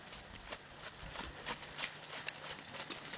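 A sorrel ranch mule trotting along an arena rail, its hoofbeats landing in a steady, moderately quick rhythm against a constant low background hiss.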